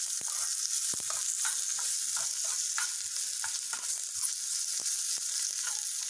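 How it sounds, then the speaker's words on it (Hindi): Crushed garlic fries in a pan on a stove flame as a tempering for a spinach vegan kadhi, giving a steady, close sizzle throughout with soft stirring scrapes and clicks. "थोड़ा सा लहसुन को भून लेंगे।"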